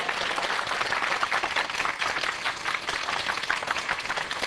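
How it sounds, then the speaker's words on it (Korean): A church congregation applauds during a Christmas sermon, with thick, sustained clapping from a large crowd holding steady throughout. "우리 주님 앞에 영광의 박수,"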